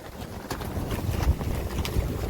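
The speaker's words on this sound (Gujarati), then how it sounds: "પવન તો જો." Wind gusts across the rocky slopes of the Girnar hills, buffeting the microphone with a continuous, uneven roar that swells in short surges.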